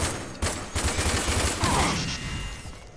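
Gunfire in the game RAGE, a volley of sharp shots in an uneven cluster that fades toward the end, with no talk over it.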